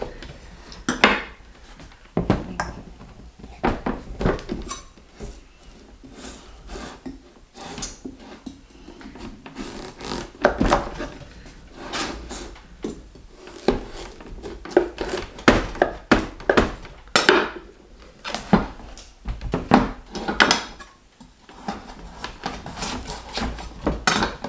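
Pots, pans and cutlery clatter and clank while supper is cooked, a steady run of sharp metallic knocks and scrapes at close range with no talking.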